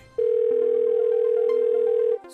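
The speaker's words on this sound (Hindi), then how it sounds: "लगाइए कंप्यूटर जी, इनके निठल्ले और बेवड़े दोस्त जीगा को कॉल लगाइए" A telephone dial tone sounds while a call is placed on an Indian reality show, a loud steady single tone holding for about two seconds before cutting off.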